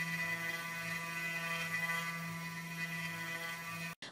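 A Makera Carvera Air desktop CNC machine mills deep pockets in wood with a 25mm flat end mill and no dust shoe. It gives a steady, close, tonal whine with a low hum that runs unbroken and cuts out abruptly just before the end.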